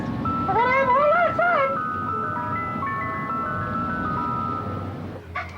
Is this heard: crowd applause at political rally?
no